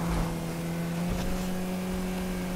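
A car engine in GTA 5 roars steadily as it climbs a steep hill, a loud sustained drone with a strong low hum throughout, no talking.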